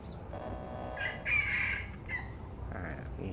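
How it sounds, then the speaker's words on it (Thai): Chickens calling in a shaded forest park in the city, a few short, moderately near clucks and calls rising over steady outdoor background noise, with no talking. "มีไก่ด้วย"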